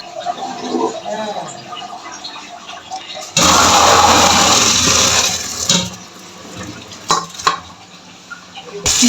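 Boiled green peas poured out and drained through a sieve, a sudden loud rush of water splashing for a couple of seconds after quieter kitchen sounds, followed by a few clinks of the pot; a voice is heard faintly.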